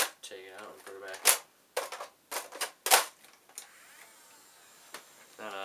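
Nerf Rayven blaster with its magazine pushed in and pulled back out, a handful of sharp plastic clicks and clacks scattered close by, with a voice talking between them.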